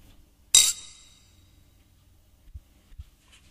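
A single sharp glass clink rings out close and bright, then decays, followed by a couple of soft dull knocks in a quiet room.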